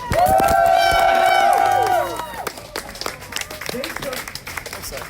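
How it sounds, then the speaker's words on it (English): A press conference crowd applauds and cheers Starbucks union workers, with loud sustained clapping under a raised voice for about two seconds, then lighter scattered clapping and murmuring. "Give them a round of applause."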